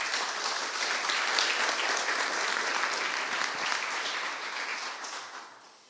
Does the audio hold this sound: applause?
yes